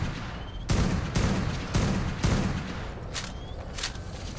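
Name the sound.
sniper rifle shot in a video game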